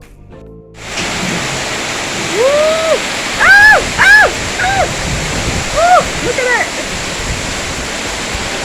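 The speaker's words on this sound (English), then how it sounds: "Gambia, when it rains, it pours, honey." Heavy rain pours down in Gambia in a dense, steady roar that starts abruptly and fills the scene, while a woman's excited exclamations ring out over it.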